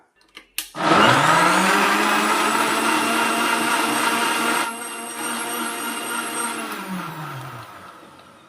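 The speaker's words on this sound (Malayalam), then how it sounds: "നമുക്കിത് നന്നായിട്ടൊന്ന് അടിച്ചെടുക്കാം" A blender whirs loud and steady, blending watermelon juice with condensed milk. The motor drops in pitch partway through and then winds down at the end.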